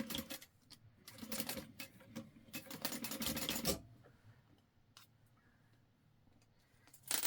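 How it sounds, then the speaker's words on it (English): A sewing machine runs in a few fast bursts while stitching tabs onto a clear backpack, close by, then stops and leaves a quieter stretch of faint handling noise near the end. "So I'm going to sew these tabs on."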